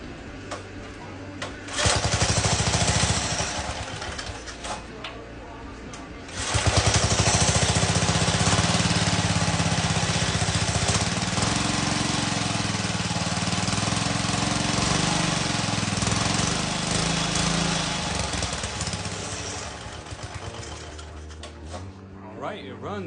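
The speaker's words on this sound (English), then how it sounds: "it runs. It definitely needs some tuning, but it's running even with the choke off." A vintage Golden Pinto minibike engine, more than 50 years old and out of tune, starts up and runs steadily with a loud, rough small-engine drone close by. The choke is off, and there is a brief pause early before it settles into a continuous run.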